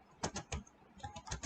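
Several crisp, closely spaced keystrokes on a computer keyboard come in two quick bursts, close and fairly quiet, with no talking.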